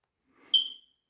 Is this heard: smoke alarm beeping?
yes